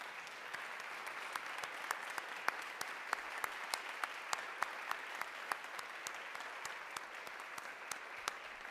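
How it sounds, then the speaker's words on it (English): A crowd at a student awards celebration applauds the standing award recipients, a soft, even patter of many hands at a distance with individual crisp claps popping out throughout. "please stand for one more round of applause"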